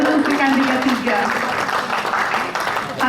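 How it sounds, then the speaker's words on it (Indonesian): Applause from an evening Halal Bi Halal and Easter community gathering, a steady crowd clapping that stays loud for the whole stretch, with a voice carrying over it at times. "Tepuk tangan untuk Sri Kandi K3."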